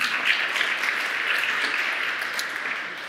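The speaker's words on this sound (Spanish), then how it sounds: "Así que un aplauso, por favor." Steady applause from a conference audience at a software talk, a dense wash of many hands clapping that holds evenly for the whole stretch, with no voices standing out.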